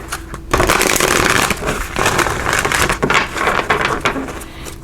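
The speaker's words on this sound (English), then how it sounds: "So let's give this a good shuffle here." A deck of tarot cards is shuffled up close: several seconds of dense, crackling riffles and slaps, with brief pauses between the bursts.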